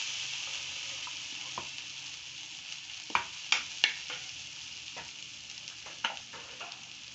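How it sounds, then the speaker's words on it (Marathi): Ginger, garlic and chili paste frying in a pan, a constant sizzle with a few sharp spatula clicks and scrapes against the pan, close and quiet, no voices. "आलं लसूण आणि मिरचीची पेस्ट टाकायची. चांगली परतून घ्यायची."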